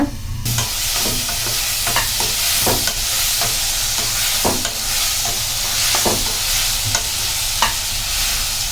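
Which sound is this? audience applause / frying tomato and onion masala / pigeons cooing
frying tomato and onion masala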